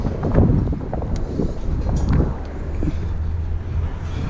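Strong wind buffets the microphone high atop a climbed construction crane, a loud continuous roar with gusting surges and low rumble, no voices over it.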